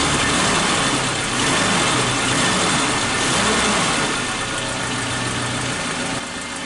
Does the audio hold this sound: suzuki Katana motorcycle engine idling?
yes